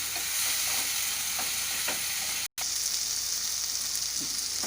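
Tomatoes and sliced baby potatoes fry in a pan with a constant bright sizzle, broken by occasional stirring scrapes and a momentary dropout midway.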